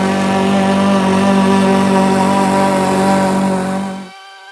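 Loud, droning motor of a lawn mower running steadily with a strong buzzing hum, then cutting off abruptly near the end.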